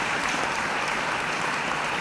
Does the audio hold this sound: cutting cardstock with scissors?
no